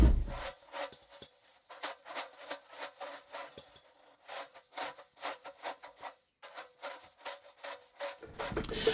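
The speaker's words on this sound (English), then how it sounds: "you are going to be cutting the top out of this can here" A knife cuts the top out of an aluminium beer can for an alcohol stove, giving a quick run of rhythmic rasping, sawing strokes up close that pause briefly midway and then resume.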